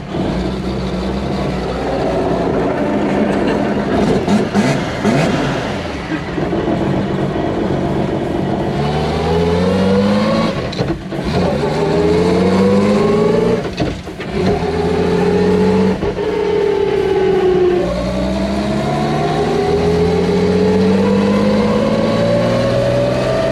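Turbocharged Chevrolet Opala SS engine revving hard at a racing event, loud repeated rising and falling revs with sharp throttle blips and brief drops, close and continuous throughout.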